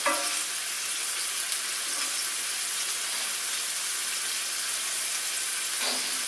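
Meatballs frying in about a tablespoon of canola oil in a pan give a steady, close sizzle with a bright hiss that runs unbroken throughout. There is no talk over it.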